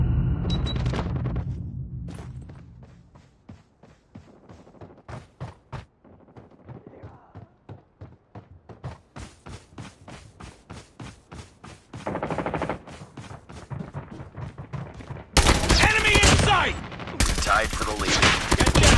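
Call of Duty gameplay gunfire: rapid automatic bursts and single shots in quick rhythmic volleys, growing into dense, loud continuous firing near the end, with in-game voice callouts underneath.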